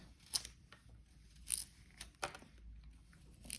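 A 440C steel grafting knife slices through a plant scion, giving a few quiet, crisp cutting strokes spaced across a few seconds with faint background noise between them.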